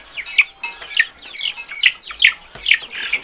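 Moran laying hens and a rooster clucking in a coop, a steady series of sharp, nasal clucks and calls repeating roughly every half second, fairly close, with no talking.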